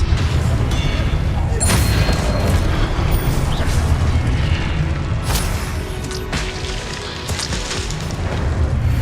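Expelliarmus spell effect in Hogwarts Legacy, a dense roaring magical blast with booming bursts and crackling impacts, loud and continuous throughout.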